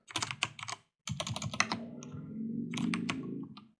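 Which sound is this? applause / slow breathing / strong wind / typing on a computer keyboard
typing on a computer keyboard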